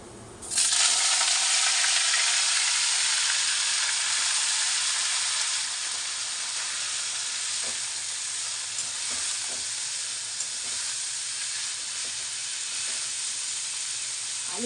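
Banana flower goes into a hot wok for a vegetarian chop and fries with a loud, steady sizzle that eases slightly after a few seconds, with faint stirring clicks close by.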